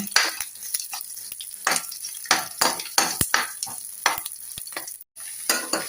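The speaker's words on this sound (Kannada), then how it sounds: "ಕ್ಯಾಬೇಜ್ ಹಾಕಿ ಒಂದ್ಸಲ ಚೆನ್ನಾಗಿ ಮಿಕ್ಸ್ ಮಾಡ್ಕೊಳ್ಬೇಕು" Shredded cabbage and green chilies are stir-fried in a hot pan, with repeated scraping spatula strokes against the metal over a constant close sizzle and no talking.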